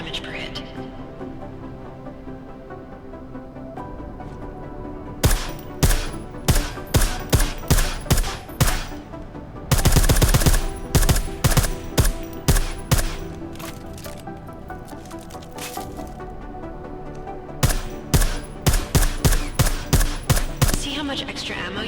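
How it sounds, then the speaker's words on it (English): Suppressed weapons fire in rapid bursts in the video game Deus Ex: Mankind Divided, with sharp repeated cracks in several volleys separated by pauses. Someone talks over the shooting. "I like how silencers reduce sound, but the trade-off is less stopping power"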